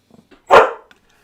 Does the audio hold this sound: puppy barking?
yes